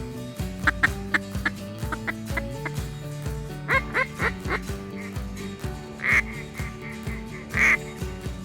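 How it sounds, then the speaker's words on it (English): Wild ducks call at sunrise during a waterfowl hunt, giving a series of close, nasal quacks and clucking notes, followed later by a few louder, drawn-out honking calls. "ducks are starting to work us."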